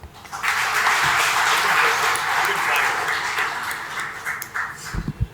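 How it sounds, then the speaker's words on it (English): An audience applauds KTR on stage at the Skyroot Vikram-S rocket launch event, a steady wash of clapping that holds for several seconds and then thins into a few scattered, louder claps. "I think you deserve a much, much bigger round of applause than anybody else."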